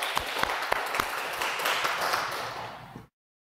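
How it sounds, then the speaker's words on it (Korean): A congregation claps together during a Wednesday church service, the applause a dense steady patter with sharper individual claps, moderately near, fading after about three seconds and ending in silence. "우리 먼저 박수 한번 칠까요?"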